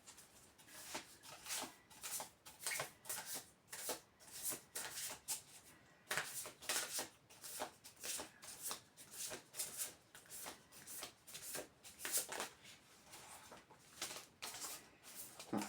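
Tarot cards being shuffled by hand, a long run of rhythmic riffling bursts repeating about once a second, close and fairly quiet with no speech.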